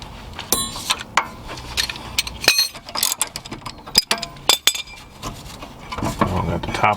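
Ratchet wrench clicking in quick irregular bursts while loosening and removing the rear brake caliper bolts on a Mercedes-Benz W126, close and loud, with occasional metallic clinks of tools and parts.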